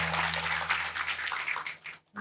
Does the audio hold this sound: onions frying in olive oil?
no